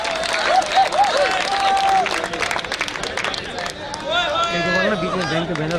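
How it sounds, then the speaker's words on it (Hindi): Applause and crowd noise rise from the audience at a Hindi comedic poetry event at a college, a dense sustained clapping mixed with cheering and speech babble. "एक बार पूरा समाज जोरदार तालियों के साथ"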